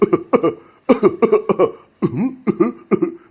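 A series of harsh, close coughs in a studio, in quick bursts, about ten in all, with brief pauses between clusters.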